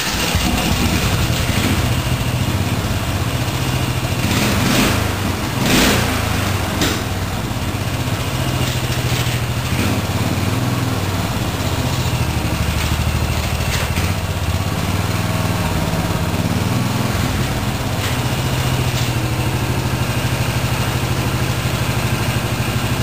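A racing lawnmower engine runs steadily on its stock exhaust and muffler, a loud, continuous mid-pitched drone with a rough, throbbing idle and no talking over it.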